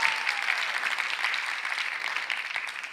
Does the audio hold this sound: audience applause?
yes